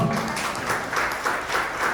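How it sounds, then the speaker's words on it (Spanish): A congregation claps during a church service, a brief burst of dense, even applause that holds throughout the short stretch. "Venga, Jania, démosle un aplauso al Señor."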